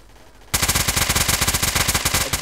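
Rapid automatic gunfire from the video game Haze, a loud continuous burst of evenly spaced shots that starts abruptly after a brief quiet moment and runs without a break.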